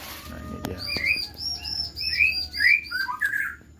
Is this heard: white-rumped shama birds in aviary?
yes